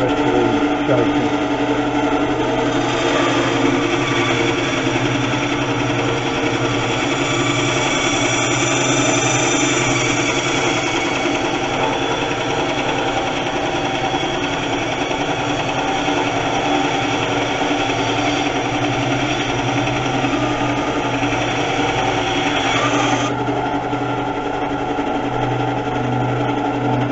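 A power tool whines steadily and loudly for a long stretch, a continuous high-pitched motor drone with slight shifts in tone as it cuts surplus material off a decorative smoking pipe before sanding.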